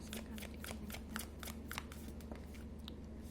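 Tarot cards shuffled by hand from a deck, a steady run of crisp, close riffling flicks with a faint background hum and no voices.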